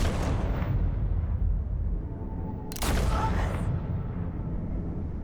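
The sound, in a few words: gunshots in the Telltale Batman video game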